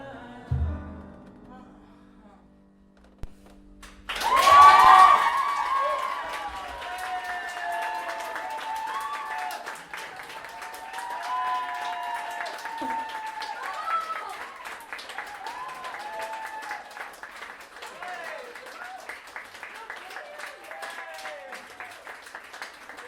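Applause from an audience after a music performance starts abruptly and stays steady as a thin, moderately distant patter of clapping, with some talk or singing tones layered over it.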